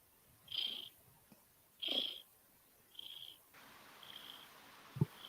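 Cat purring close to a microphone, a few soft separate bursts spaced about a second apart, faint and quiet with no talk over them.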